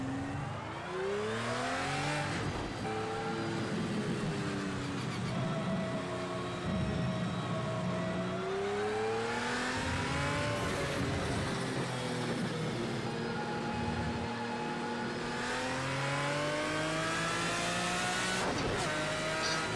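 Race car engine in the Project Cars 2 video game revs continuously, rising and falling in pitch through gear changes over about twenty seconds, loud and steady with tire noise beneath.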